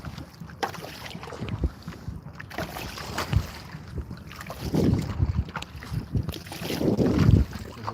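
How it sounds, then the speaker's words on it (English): Strong wind blows outdoors, buffeting the microphone in a steady, gusty rumble. It swells louder in a few surges, with no voices. "There's a fair bit of wind out here today."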